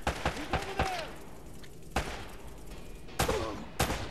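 Gunshots in Uncharted: Drake's Fortune, several sharp separate reports spread over a few seconds, some in quick pairs, over a quiet game background.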